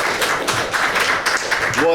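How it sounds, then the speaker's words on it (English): An audience gives a quick round of applause for two volunteers at a lecture, a dense patter of clapping that fills the whole moment, with a voice starting up near the end. "Quick round of applause for them for volunteering."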